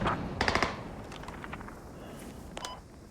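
Gunfire in the military shooter video game Squad: a quick cluster of several shots early on, then quieter distant pops and faint beeping over low background rumble.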